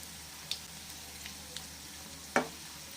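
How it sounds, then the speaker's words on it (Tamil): A banana snack made from leftover bananas fries quietly in a pan, giving a faint, even sizzle with a couple of small sharp clicks and one louder pop near the end. "இது நல்லா சுற்றி சுற்றி நல்லா வேக வச்சிடணும்"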